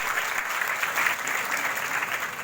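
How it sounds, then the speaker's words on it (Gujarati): Dense, steady applause from a large audience at a cooperative bank's annual general meeting, sustained clapping filling the hall throughout without pause. "ભાદરણની અંદર આટલી મોટી સંખ્યામાં તાળીઓ ખૂણે ખૂણે"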